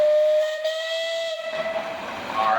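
A steam traction engine whistle at the Sycamore Steam Show parade gives a steady high tone for about a second and a half, then dies away into hissing steam.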